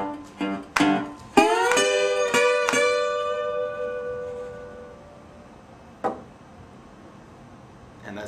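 Guitar playing the introduction to a Delta blues song, a few plucked notes and then strummed chords ringing out and decaying, close and clear, with one more struck note near the end.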